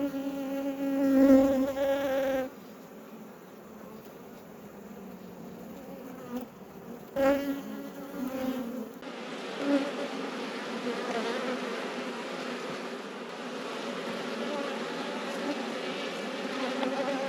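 Bees buzz steadily and fairly loudly around an opened beehive during an inspection, a dense drone that swells and shifts without a break, with no one talking.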